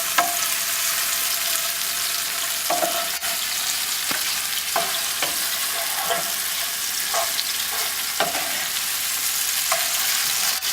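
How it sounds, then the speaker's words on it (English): Red pepper and onion sautéing in hot grapeseed oil, a loud, dense, steady sizzle close by with regular stirring scrapes punctuating it. "So we want to saute this until this is soft."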